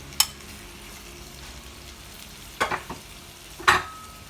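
Tomatoes go into a hot pan for cheesy spaghetti, giving a quiet steady sizzle with a few louder stirring scrapes and clinks of a utensil against the pan.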